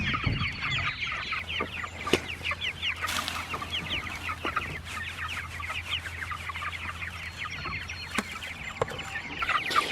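A flock of chickens clucks and chatters continuously nearby, many overlapping calls with occasional sharp knocks, over a low steady hum.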